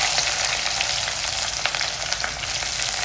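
Shallots and curry leaves fry in hot oil, making a steady, loud, close crackling sizzle with no break and no voices.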